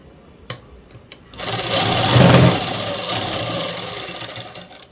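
Sewing machine stitching tucks on a child's blouse, starting after a couple of clicks and running as a continuous close whirring hum for several seconds, peaking midway then holding steady.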